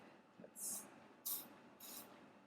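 Three soft, short hissing bursts of a spray bottle misting homemade yoga mat spray onto skin, evenly spaced, in an otherwise quiet room.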